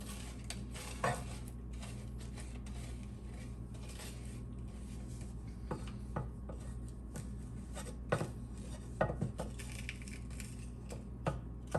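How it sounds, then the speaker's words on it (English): Melting sugar being stirred in a pan on low heat for a persimmon flan, with steady scraping and occasional clinks of utensil against metal, soft and close with no talking. "So just lower the heat and continue moving it until all the sugar is melted"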